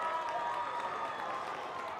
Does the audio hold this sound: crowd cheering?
yes